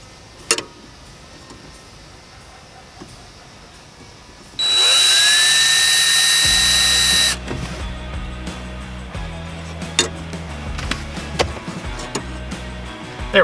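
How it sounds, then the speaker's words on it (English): A power drill whines loudly for a few seconds while drilling mounting holes in a 2013 Scion tC, then gives way to lower grinding and clunking, with scattered clicks and knocks around it. "and then we'll go ahead and drill our holes."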